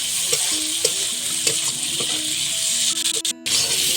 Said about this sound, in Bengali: এবার যে ভেজে রাখা আলুটা সেটা এই কষানো যে মশলাটা এর মধ্যে দিয়ে দেওয়া হবে দিয়ে ভালো করে একটুখানি কষিয়ে নিতে হবে